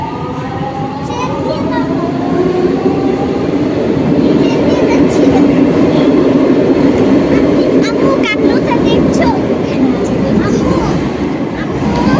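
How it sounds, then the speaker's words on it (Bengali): An underground metro train rumbles steadily and loudly deep below ground in a Portuguese station, a continuous roar with faint tonal whine throughout and indistinct voices in the background. "অনেক নিচে আছি আমরা দেখছো এখানে ট্রেন আসবে আজকে"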